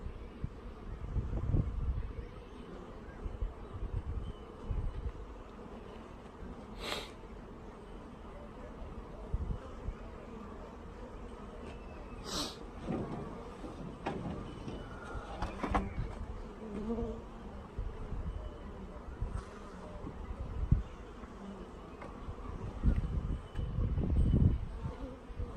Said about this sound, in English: There's a good amount of worker bees.